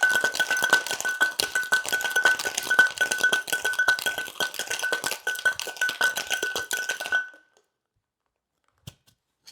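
Ice cubes rattle hard inside a sealed metal cocktail tin, a fast, loud, steady clatter for about seven seconds that stops abruptly, followed by a couple of faint clicks in near silence.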